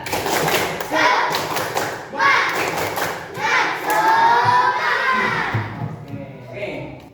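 A classroom of children performs a rhythmic spirit clap, bursts of clapping and thudding beats alternating with shouted chanting in short, energetic phrases.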